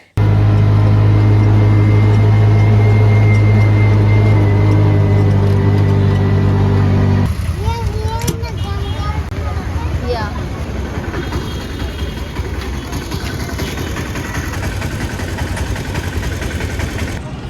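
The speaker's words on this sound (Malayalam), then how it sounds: "ഒരു ഓട്ടോ എടുത്തിട്ടാണ് മാർക്കറ്റിലേക്ക് പോകുന്നത്" Auto rickshaw engine running close by with a steady mid-pitched drone, first idling with a strong low hum, then moving along a busy road to a market in Arunachal Pradesh, with traffic noise and voices around it.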